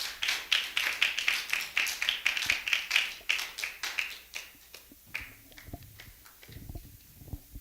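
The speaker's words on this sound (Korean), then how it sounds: "우리 나오실 때 큰 박수, 환영의 박수" A youth worship congregation at a church claps in welcome for a student coming forward, a thin, fairly quiet patter of hands that tapers off after about five seconds, followed by faint scattered sounds.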